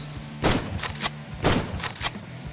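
Shotgun firing in the video game Project Glade, three loud sharp blasts spaced about a second apart, each followed by a brief mechanical clack over a low steady hum.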